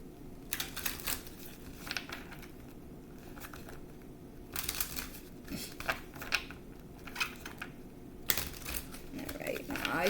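Playing cards shuffled by hand during a spiritual card reading, heard as repeated crisp riffling and crinkling bursts close by with short pauses between them, with no talk over them.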